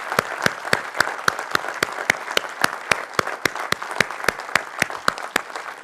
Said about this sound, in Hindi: ओ इनके लिए जोरदार ताली।